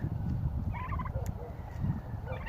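Turkeys gobble a few times over a steady low rumble of background noise, the calls bubbling up in short bursts.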